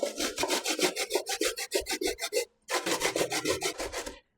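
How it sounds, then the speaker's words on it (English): Rhythmic rasping strokes of coconut flesh dragged over a hand grater for a Jamaican sweet potato pudding, close and steady, about sixteen even scrapes with one brief pause, no talking. "now I'm going to grate the coconut"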